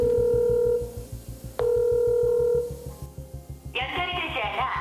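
A telephone handset dials out, steady dial tones broken by keypad beeps, followed by a pulsing ring-back and then a recorded voice message at the end.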